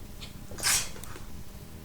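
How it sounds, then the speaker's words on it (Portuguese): A single short sneeze lands near the middle, a sharp bright burst over faint room noise with no other sounds. "Foi eu, pessoal, sem querer, uma espirradinha aqui"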